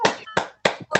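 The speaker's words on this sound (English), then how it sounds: "If you'd like to unmute yourselves and have a little clap and cheer for Lolita" Online meeting participants clap their hands in four sharp, separate bursts, close and fairly loud, with brief silences between them.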